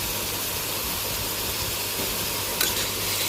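Bitter gourd frying in oil with onion and green chili: a loud, constant hissing sizzle close up, with a brief scrape of stirring near the end, no voices.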